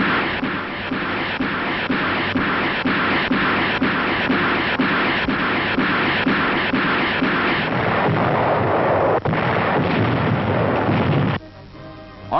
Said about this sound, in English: Terrific rocket barrages level shore defenses.